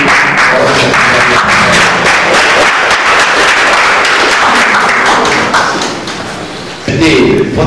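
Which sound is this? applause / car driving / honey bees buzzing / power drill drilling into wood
applause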